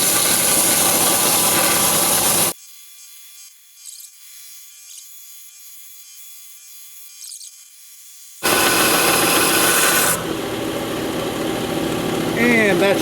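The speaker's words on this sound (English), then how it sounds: "we're also going to hit the grinder on this edge where the teeth were and get it nice and flat" Angle grinder flattening the toothed edge of a steel saw blade, heard as two loud, harsh, close grinding bursts separated by several seconds of near silence.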